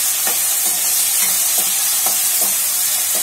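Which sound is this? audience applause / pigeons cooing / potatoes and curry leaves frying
potatoes and curry leaves frying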